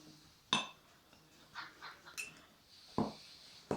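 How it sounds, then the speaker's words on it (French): Gelatin powder poured into drinking glasses, giving a few faint clinks and light taps on glass with soft rustling in between, no talk. "vous versez la gélatine dans chaque verre"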